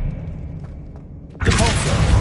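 Expelliarmus disarming spell cast in Hogwarts Legacy, a sudden loud magical burst with a whooshing, booming impact that cuts in after a quiet, low rumbling lead-in and rings on briefly.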